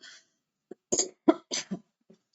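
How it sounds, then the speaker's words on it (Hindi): A teacher at the start of a sociology class coughs in a short cluster of sharp, close coughs with brief pauses and a soft throat-clearing, in an otherwise quiet room. "एकदम से खांसी आने लग गई है"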